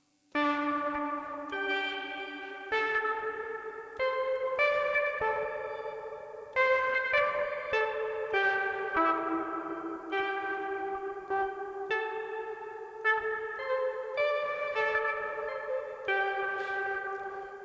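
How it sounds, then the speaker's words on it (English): A bright synth plays shifting plucked notes that wash into each other through heavy reverb and echo, steady and loud for the whole stretch. "that's going to sound good with reverb"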